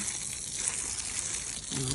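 A hose sprays water steadily to rinse front yard landscaping, a continuous broad hiss with no break, fairly quiet and close, with a brief voice near the end.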